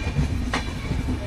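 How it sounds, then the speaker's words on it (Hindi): A train running on railway tracks at a station in Delhi, a steady low rumble of wagons lasting the whole moment with a brief brighter clank in the middle, fairly close and with no voices. "ट्रेन की पटरी पर लोग खड़े हैं, इस ट्रेन का वेट कर रहे हैं। जब ट्रेन जाए तो एक लाइन क्रॉस करेंगे"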